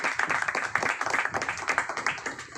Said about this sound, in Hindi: मैं एक बार चाहूँगा मेरे गुरु के लिए जोरदार ताली